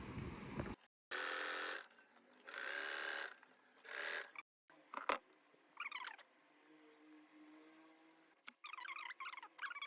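Sewing machine running in several bursts while stitching buckram cloth along a border for a scalloped cut-work blouse design, close and loud, with short pauses and lighter mechanical clicks between runs.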